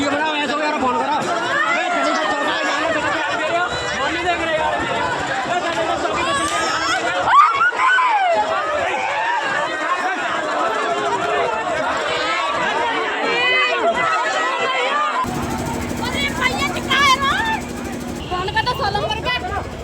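Frantic screaming and shouting from a crowd during an attack on a Dalit groom's wedding procession in Agra, loud and chaotic throughout, with overlapping cries, running and babble, and a harsher mechanical tone joining near the end.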